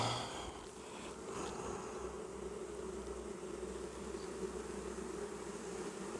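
Honeybees buzz inside a hive in a steady, dense drone that holds close and even throughout, with faint handling sounds near the start.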